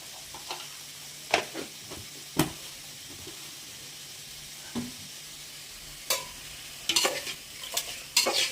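A spoon stirs rock salt into a dish cooking in a pan, with soft sporadic scraping and tapping clicks over a faint steady sizzle, quiet and close.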